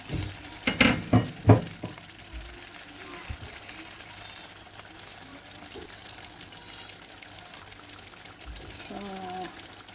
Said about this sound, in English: Add the stock from the meat in here.